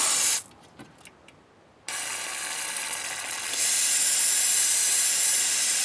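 An aerosol cleaner can sprays onto a Cummins diesel Dodge engine oil pan with a long, steady close hiss, briefly interrupted, then resuming and growing louder.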